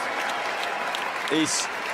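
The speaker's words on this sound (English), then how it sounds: "the reaction to this crowd" A crowd at a UCI Trials World Cup event in Berlin, Germany applauds in a dense, steady patter, with a commentator's voice talking over it throughout.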